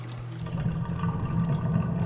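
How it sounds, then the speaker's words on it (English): Water drains in the puzzle video game A Tale of Paper, a steady low gurgling rush with faint trickling on top, continuous and moderately loud throughout, no voices. "it sounds like we just drained some water"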